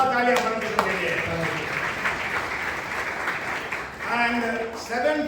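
Sustained congregational applause during a Sunday church sermon, steady and fairly loud throughout. A preacher's voice talks over it at the start and again as it fades.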